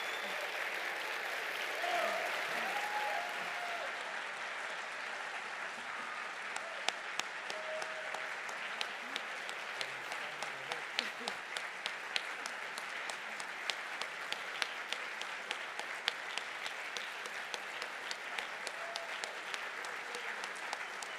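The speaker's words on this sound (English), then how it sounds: "And now you can clap." Audience applauding after a lecture on human understanding in the age of AI, sustained clapping from a room of listeners, starting softer then growing into a steady patter of many hands, with faint voices underneath.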